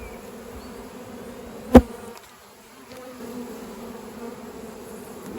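A steady, faint swarm of honeybees buzzes around a hive full of nectar and honey throughout, with one sharp knock partway through.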